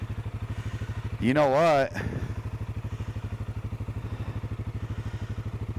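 Yamaha XT350 motorcycle engine idling with a fast, even thumping putter, running low on fuel; someone speaks briefly over a loud burst early on, then the steady single-cylinder beat carries on alone.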